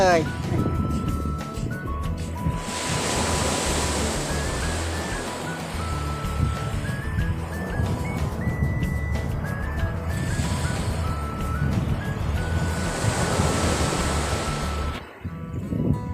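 Waves break on a beach on a windy, stormy day, a steady rushing surf with two louder surges and constant wind buffeting the microphone, while someone talks over it.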